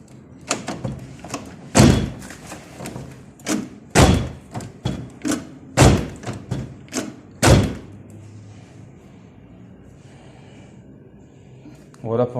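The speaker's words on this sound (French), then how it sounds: "Voilà pour une porte qui se bloque et qu'on peut pas ouvrir." A stuck Volkswagen car door is forced open with a lever against the sheet metal, giving a string of heavy, irregular metallic thumps and bangs up close, then a quieter stretch.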